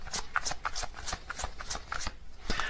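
Tarot cards are shuffled and drawn by hand, giving a quick run of soft, crisp riffling flutters at a close, quiet level.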